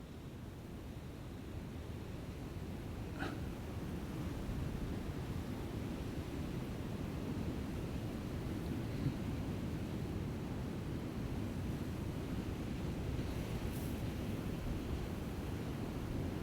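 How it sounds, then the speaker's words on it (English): Strong wind gusting across a lake during a carp fishing session, a steady broadband roar with microphone buffeting that holds for the whole stretch, with no talking. "there's quite a heavy wind on it today, which is blowing left to right"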